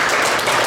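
Applause from an audience at a members' general assembly welcoming a speaker to the stage, a brief dense wash of many hands clapping at steady volume with no voices over it.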